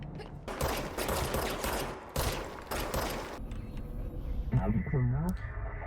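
A handgun fires repeatedly at targets in the video game Control, several loud shots in quick succession, followed by a warbling, tonal game effect after the shooting stops.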